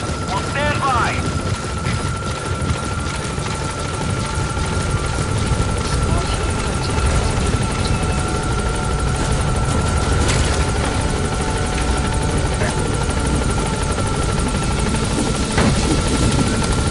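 A P-Quad helicopter sets down and idles at a landing zone in Metal Gear Solid V, its steady rotor drone filling the scene at close range while radio voices speak over it.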